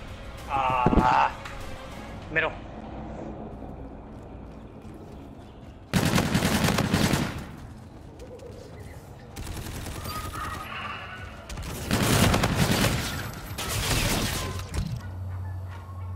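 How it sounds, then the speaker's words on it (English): Bursts of automatic gunfire in a Call of Duty: Infinite Warfare Search and Destroy match, loud clustered volleys separated by quieter stretches, with a voice talking over the action. "Somebody shooting at this guy's back."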